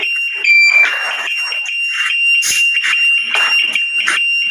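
A homemade anti-theft alarm on an automatic scooter, wired from a turn-signal flasher, sounds in loud, continuous electronic warbling tones, close by and steady, with no talking.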